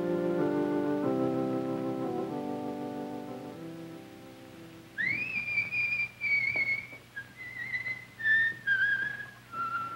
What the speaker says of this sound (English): even whistling